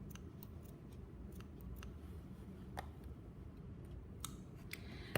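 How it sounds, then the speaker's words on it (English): Scissors snip sewing thread quietly up close, a handful of faint, sharp clicks scattered over a low background hum. "you can go ahead and cut your thread"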